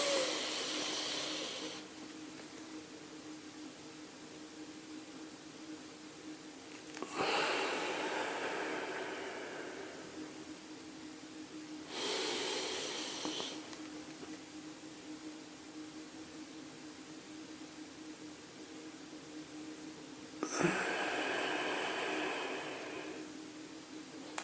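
Slow, deep meditation breathing heard close up, four long airy breaths spaced several seconds apart with quiet stretches of low hiss between them and no talk.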